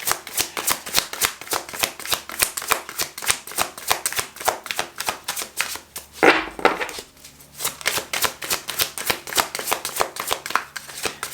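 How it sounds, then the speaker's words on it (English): A deck of tarot cards is riffled and shuffled repeatedly up close, crisp rapid flutters in a steady rhythm with a brief pause partway through, no talking. "All right, last shuffle."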